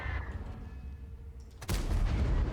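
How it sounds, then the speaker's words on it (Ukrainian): World of Tanks artillery fire lands as a sudden booming blast about two-thirds of the way in, followed by rumbling after a quieter stretch of game noise. "Мене просто з'їдає тут арта."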